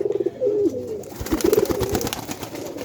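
A male pigeon coos close by in two short throaty bursts, with soft handling noises between them.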